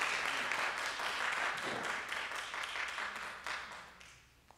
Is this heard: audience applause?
yes